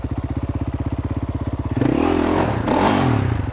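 Dirt bike engine idling with a fast, even pulse, then revved up sharply and held at higher revs with wavering pitch, close and loud, with no talk.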